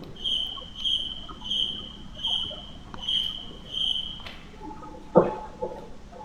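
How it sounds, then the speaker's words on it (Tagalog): Crickets chirp in a cemetery at night, a steady rhythm of short bursts roughly every 0.7 seconds. A sharper knock breaks in near the end. "May kuliglig yun guys."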